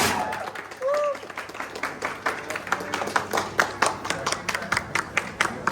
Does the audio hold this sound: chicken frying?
no